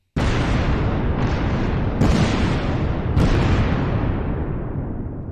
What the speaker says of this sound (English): The nominees for Most Gratuitous Explosion are Spectre, the Moroccan lair explosion.